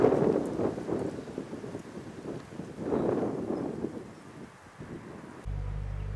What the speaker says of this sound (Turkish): güzel rüzgar esiyor